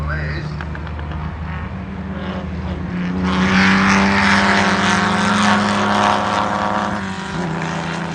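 Pre-war sports car engine running at a historic racing festival at Donington, a loud steady mechanical drone with strong tonal harmonics that swells louder partway through, with people talking nearby.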